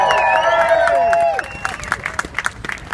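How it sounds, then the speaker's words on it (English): Outdoor crowd in a public square applauding an artist at a plinth unveiling, a loud voice with cheering carrying first, then scattered clapping and shouts that fade quickly. "give a massive round of applause to the artist"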